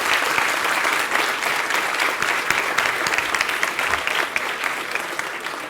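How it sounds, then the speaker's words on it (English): A live audience at an AI engineering talk applauds after a presentation, a loud, continuous round of clapping that stays full and steady throughout, with no voices over it. "please give a huge round of applause for her amazing presentation"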